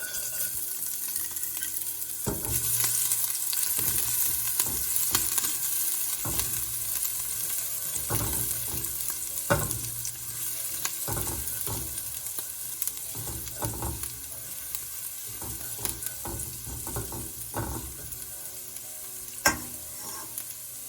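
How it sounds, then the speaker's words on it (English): Green chilies, ginger and garlic fry in hot oil for Thai red curry, a steady close sizzle broken by repeated scraping stirs of a spatula, with no voices. "Once the oil is heated, add in the green chilies, ginger and garlic to it."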